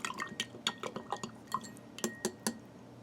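A spoon stirs purple ration drink mix into water in a cup, giving a quick run of light clinks and taps against the sides, close and fairly quiet with no talking.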